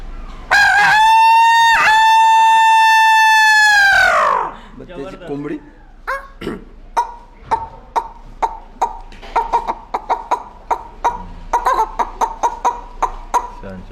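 A person imitates a rooster's crow in one loud, drawn-out call, then makes a run of short, sharp clucking and clicking sounds.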